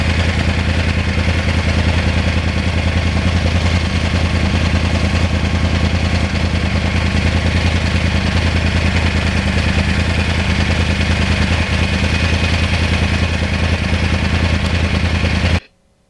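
Engine of a 2020 Yamaha R1 crossplane motorcycle while riding on the road: a steady, loud drone with a constant low hum that runs unbroken for about fifteen seconds before cutting off abruptly at the end.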